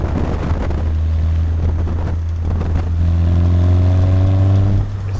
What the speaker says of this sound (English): The throttle response coming from the little Mazda engine is spot on.